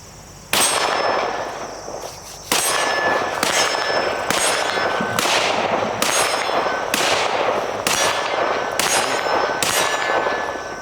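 Rifle shots fired at an outdoor range, comparing a NATO AUG with an AR15; about seven sharp, loud cracks spaced roughly one to one and a half seconds apart, each with a ringing metallic tail.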